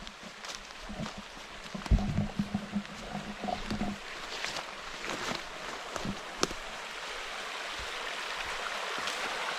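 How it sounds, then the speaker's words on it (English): A small creek runs through a forest campsite beside a wild river, giving a steady soft trickle and wash with a few irregular knocks and rustles over it. The sound is fairly quiet throughout. "there's a little creek running through."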